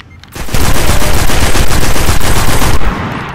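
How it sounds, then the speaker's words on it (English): Sustained automatic machine gun fire from a Destiny firefight, loud and close, a dense unbroken burst lasting several seconds before cutting off. "I suck with a machine gun"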